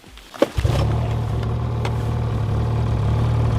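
A snowmobile engine catches after a pull start: a brief rattle of the cord, then a steady low idle that holds close and even for the remaining seconds.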